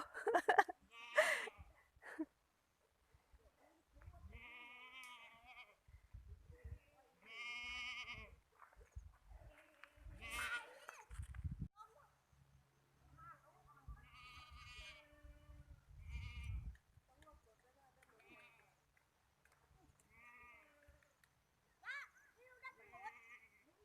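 Goats on a Thai goat farm bleat repeatedly in wavering cries near the listener, some loud and some quieter, between stretches of quiet and someone speaking.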